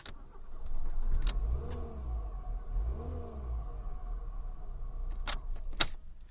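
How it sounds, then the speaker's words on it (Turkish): A Fiat Palio starts with its electronic key, with a brief key jingle, then the engine cranking and turning over into a low rumbling idle, heard fairly close in a quiet setting, with a couple of sharp clicks and jangles near the end. "Buradan da aracın çalıştırıldığını görebiliriz."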